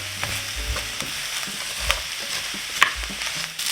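Onions and apples fry in a pan with a steady sizzle, broken by a few soft stirring scrapes and a brief clink near the end; no one speaks.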